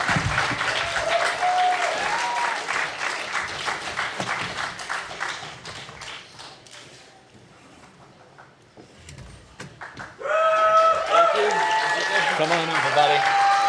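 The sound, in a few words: audience applause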